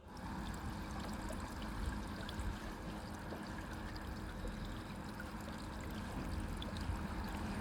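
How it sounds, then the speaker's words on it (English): A soft, steady trickle of water from an urn water feature runs continuously, a low, gentle flowing wash with no pauses, fairly faint and even. "This is the low sound you get with a panel or urn water feature."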